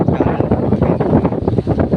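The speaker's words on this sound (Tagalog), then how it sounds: "Hangin, lakas ng tubig" Strong wind roars and buffets the microphone over churning rough sea at Talisay Baywalk, Masbate, a dense, continuous rumble with no voices.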